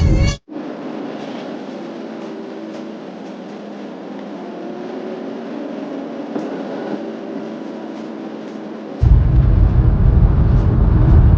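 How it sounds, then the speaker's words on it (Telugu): A steady, loud rumble of a moving train fills the whole stretch, with a sudden heavier low roar near the end. "మేము ట్రైన్ ఎక్కుతున్నాం, చూద్దాం అది ఎక్కుంటుందో."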